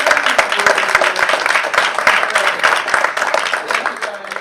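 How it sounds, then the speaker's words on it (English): Applause from a summit audience for two panel speakers, a loud sustained patter of many hands clapping, with a voice talking over it at points. "can we do just one last round of applause for both these guys?"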